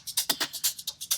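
Two layered shaker loops, one pushed into the background with a light Cubase phaser at heavy feedback, giving fast, even, hissy strokes with a faintly swirling tone, close and with no voices.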